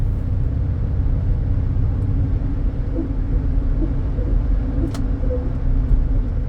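A 2000 Toyota Avalon drives along with its engine running, giving a steady low rumble of road and engine noise throughout, with no talking.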